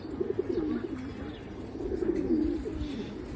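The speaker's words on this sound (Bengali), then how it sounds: "কবুতরগুলোকে খাবার দেওয়া হবে" Pigeons cooing close by in a loft at feeding time: low, soft, rolling coos repeat in overlapping phrases against a quiet background, with no talking.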